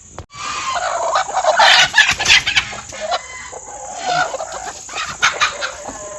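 Gavran hens cluck on a farm, with several birds calling in a busy, overlapping chorus of short clucks and squawks that rise and fall throughout, close by and fairly loud.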